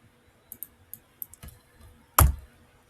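A computer mouse gives a few sharp, separate clicks nearby, followed by a louder single thump-like click near the end, set against a quiet background without speech.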